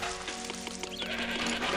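Goats in the city-building game Zeus: Master of Olympus bleat faintly and briefly over a steady bed of game music and ambient hiss.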